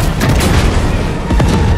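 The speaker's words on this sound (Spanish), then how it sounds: "¡Lo cohetes! Ahí está, los haces." Loud, dense booming explosions and rumbling blasts from rockets launching during a Fortnite live event, a continuous close barrage with no speech.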